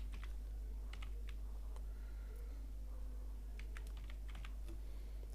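Typing on a computer keyboard to enter a company name into a website form: scattered clusters of light, close key clicks over a steady low electrical hum, with no talking.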